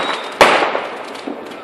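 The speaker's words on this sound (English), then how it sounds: "in case of the very intensified loudness of the fireworks." New Year fireworks explode with one sharp, loud close bang followed by a crackling, hissing tail and a few fainter pops near the end.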